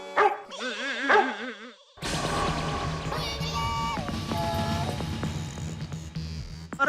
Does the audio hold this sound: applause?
no